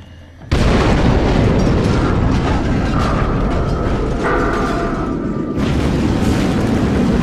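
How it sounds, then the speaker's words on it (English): A loud explosion in the video game Far Cry 2 bursts in abruptly after a brief quiet moment, followed by a sustained rumbling roar of debris and fire that carries on for several seconds. "Watch the explosion."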